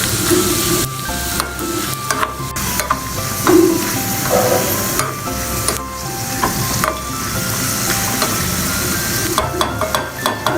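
Moong dal fries in ghee as it is stirred, giving a continuous close sizzle broken by repeated scraping and tapping of the spoon against the pan.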